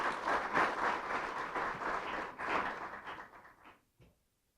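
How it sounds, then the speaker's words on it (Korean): A seated audience at a policy debate forum gives a round of applause for a professor after his presentation, steady dense clapping that tapers off and ends in silence. "다시 한번 발표해 주신 김현명 교수님께 큰 감사의 박수 올려드리겠습니다"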